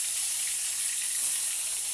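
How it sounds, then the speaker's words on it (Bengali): Eggplant pieces frying one at a time in oil left over from frying fish give a steady, soft, high hiss. The sizzle stays even throughout, with no talking. "ওই মাছের তেলেতেই এবার বেগুনগুলো আমি এক একটা করে ভেজে নিব"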